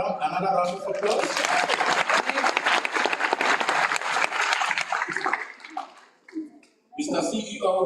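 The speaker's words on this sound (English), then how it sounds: "Let's give him another round of applause." Graduation ceremony audience gives a long, dense round of applause that fills the hall for about five seconds, then fades out as a speaker's voice returns.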